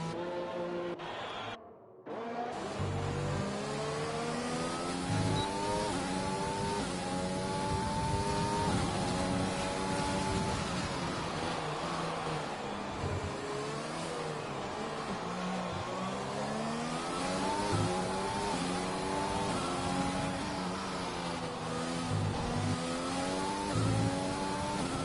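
Race cars in the F1 2020 video game at the Dutch GP accelerate with a high, continuous engine whine, rising and falling through gear changes over about 25 seconds, loud and close, with a brief dropout near the start and no talk.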